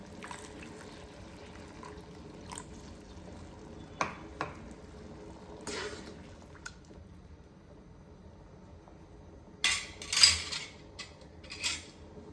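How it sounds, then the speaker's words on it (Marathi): Water left from rinsing a pot trickles quietly into a pan of Satara-style udid dal, with soft pouring sounds and a few light clinks of metal utensils in a quiet kitchen. "थोडंसं मी यामध्ये ना ते आपला भांडं धुवून घेतलेलं पाणी ओतते"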